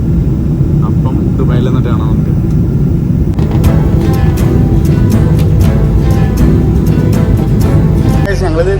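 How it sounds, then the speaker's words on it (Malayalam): A passenger airplane lands at Dubai, its steady engine roar and cabin rumble heard from inside, with a sharper burst of noise partway through and a voice talking over it. "നമ്മളിത് ദുബായിലേക്ക് ലാൻഡ് ചെയ്തുകൊണ്ടിരിക്കുന്നു"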